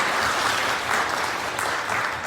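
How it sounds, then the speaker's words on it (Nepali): An audience at a live program in Lubbock, Texas claps for the community team, with sustained, full-room applause that stays loud and steady throughout. "हाम्रा कम्युनिटी टिमका साथीहरूको लागि चाहिँ एकचोटि ताली बजाउन म अनुरोध गर्दछु।"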